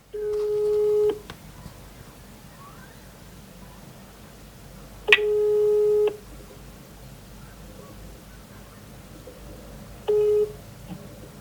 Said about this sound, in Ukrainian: Ну що, телефонуємо переможцю.